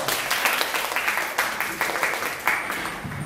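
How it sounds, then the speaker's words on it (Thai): An audience at a job-application training seminar claps in a steady, moderately distant round of applause with distinct individual claps audible. "ขอเสียงปรบมือด้วย"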